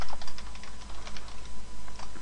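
Fingers type on a computer keyboard in a steady run of quick, close key clicks and taps with brief pauses, heard alone over a low background hum.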